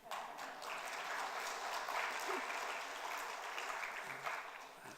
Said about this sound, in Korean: 이렇게 찬송을 부르면 박수를 치더라고요